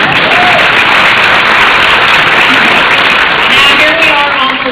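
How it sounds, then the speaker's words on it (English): Crowd at a political town-hall gathering claps continuously, a loud, even, rain-like spread of many hands close by, with a few voices faintly under it. "you can clap, that's okay"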